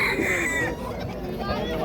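A black rooster lets out a loud, drawn-out crow close by, followed by rougher clucking fowl sounds at a market.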